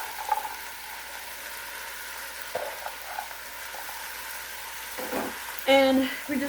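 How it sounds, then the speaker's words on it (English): Leeks, peppers and onions cook in oil and butter for a Cajun potato and sausage soup, a low steady sizzle with a few utensil clinks and a louder scrape near the end. "we're just going to stir that around and get that all mixed in, coat it with that oil and that butter"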